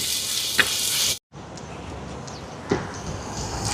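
Onions and ginger garlic paste sauté in a pan with a steady, close hiss and sizzle that cuts out briefly, then resumes with a few faint clicks.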